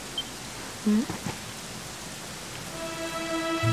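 Steady, even rain hiss from the video game Dragon Quest XI fills the whole scene at moderate loudness, with brief tonal game sounds and faint music notes rising over it toward the end.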